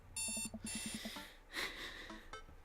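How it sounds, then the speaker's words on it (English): Rapid electronic beeping of an alarm clock in the dating-sim video game Dream Daddy, a loud bright burst of repeated tones followed by softer rustling and breathing-like sounds. "I jolt awake to the sound of my alarm."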